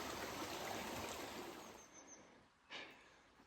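Creek water flowing steadily along a cool, shady canyon trail among old mine remains, a broad constant rush that dips briefly near the end before a short swell.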